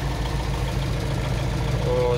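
An MTZ-80 tractor engine runs at a steady, low rumbling idle, heard close and continuous with a mild knocking pulse underneath.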